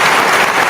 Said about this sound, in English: Oh, wait, I got to get my clapping.